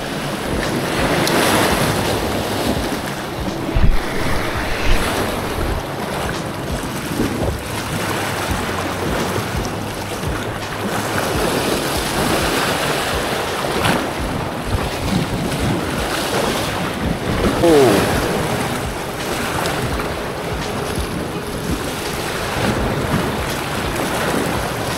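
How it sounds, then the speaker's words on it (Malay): Sea waves surge and break against shoreline rocks at Batu Ferringhi, a steady roar of surf mixed with gusty wind buffeting the microphone, with a few heavier crashes standing out, and no talk. "Tu dia, ombak datang."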